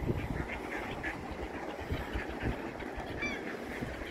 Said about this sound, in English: all the ducks and seagulls are coming in because their man's dropping bread down